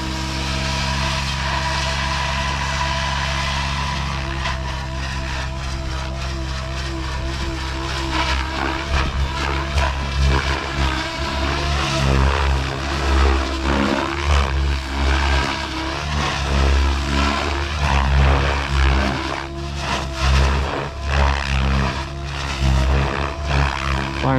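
An XL Power Specter 700 RC helicopter with a flybarless system flies nearby at about 2080 RPM, its steady loud rotor and motor whine droning continuously with shifting pitch during stunts.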